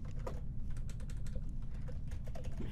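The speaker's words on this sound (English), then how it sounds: "typing your message in here" Someone types a message on a computer keyboard, producing a quiet, steady run of soft key clicks over low background hum.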